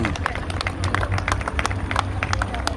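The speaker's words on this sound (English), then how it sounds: "Let's give her a massive round of applause" Crowd at an outdoor rally clapping and applauding loudly and steadily, sharp claps scattered through a dense wash of hands with some murmuring voices mixed in.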